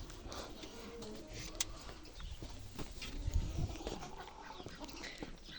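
Pigeons kept by a Romanian owner, moving about on the ground with soft cooing and wing or feet rustles, close by, amid steady outdoor background noise and faint voices.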